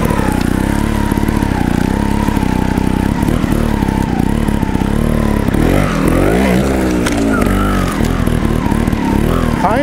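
A Gas Gas TXT trials motorcycle revs and idles up close in quick, uneven bursts of throttle as the rider hops between obstacles, the engine note rising and falling steadily throughout.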